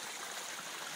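Pure spring water flows steadily in a brief, close, continuous trickling babble with no voices.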